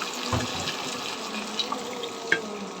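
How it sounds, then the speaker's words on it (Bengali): A little water poured onto browned frying onions in a pan, a soft brief splash near the start followed by steady hiss and faint sizzling, with a small clink near the end and no talking. "যাতে পুড়ে না যায় একটুখানি দিয়ে দেবো পানি।"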